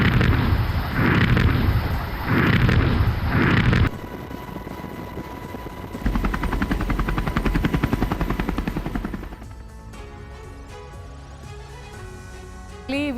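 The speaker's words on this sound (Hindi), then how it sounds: "फ्रांस, जर्मनी के वॉरशिप लगातार धमाके कर रहे हैं।" Explosions from French and German warships during a NATO military exercise, heavy booming blasts and roaring bursts in quick succession, followed by a quieter stretch of rumble and music-like tones.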